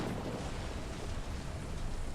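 Steady rain falls in the video game Fictorum during a storm on a volcano, a constant broad wash of downpour with a low rumble beneath, loud and unbroken throughout.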